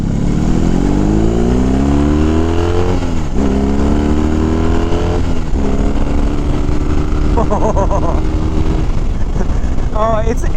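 A 2022 BMW R18 B cruiser motorcycle engine gives a loud, throaty, deep rumble that rises in pitch as it accelerates through several gear changes on a Southern California road, steady and close throughout, with faint talk underneath.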